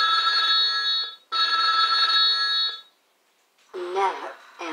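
An old telephone bell rings in two long, loud, metallic bursts with a short gap between them, then a person starts talking close by after the ringing stops.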